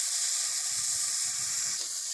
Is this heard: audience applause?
no